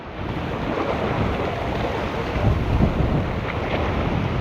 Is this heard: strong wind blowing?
yes